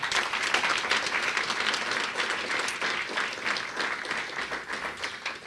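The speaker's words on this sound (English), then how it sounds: "So please give them all a round of applause." Applause from an audience at a CUNY Aviation Institute family night event, a steady dense wash of clapping that holds loud and even throughout with no voices standing out.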